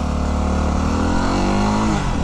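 A Yamaha WR250X motorcycle engine throbs loudly and continuously up close while being ridden, with a rough, popping character.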